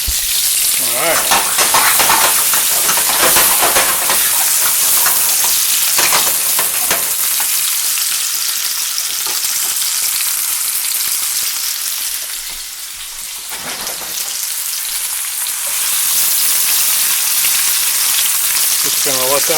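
Vegetables for a veggie stew browning in a hot pan, a loud steady sizzle and crackle filling the whole stretch, dipping briefly in intensity midway before rising again, with no talking.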